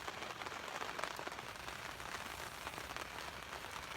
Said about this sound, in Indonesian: Ini masih lumayan sih hujannya.